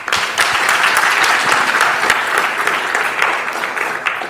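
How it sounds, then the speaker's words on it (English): Audience applause at a technology conference talk on containers: loud, dense clapping from a crowd fills the whole stretch without easing, close and continuous, with no one speaking over it. "So big round of applause for these guys."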